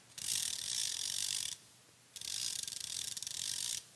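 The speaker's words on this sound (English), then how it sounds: "Another type of one-way clutch is this ratchet type clutch. And you can listen to this and tell why they call it a ratchet." A ratchet-type one-way clutch spins and clicks in two long rapid bursts, each about a second and a half, close and clear with a short silence between them.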